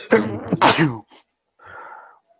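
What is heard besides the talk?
sneeze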